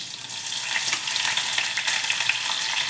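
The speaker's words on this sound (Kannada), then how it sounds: "ಸಾಸಿವೆ ಚಟಪಟ ಅಂದಿದ ತಕ್ಷಣ ಕರ್ಬೇವಿನ ಸೊಪ್ಪು, ಹಸಿಮೆಣಸಿನ್ಕಾಯಿ" Mustard seeds, curry leaves and green chilies sizzling and crackling in hot oil for a potato palya, a loud, dense, continuous frying hiss close up with scattered pops.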